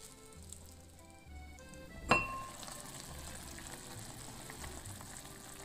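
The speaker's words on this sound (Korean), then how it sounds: "김치가 볶아지면 멸치, 다시마, 표고버섯, 육수 400ml 부어주고 팔팔 끓여줍니다." Kimchi stew at a rolling boil after anchovy, kelp and shiitake broth is poured in, a soft bubbling simmer with one clink of a utensil midway, fairly quiet and close.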